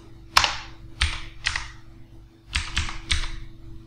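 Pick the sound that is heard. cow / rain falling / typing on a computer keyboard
typing on a computer keyboard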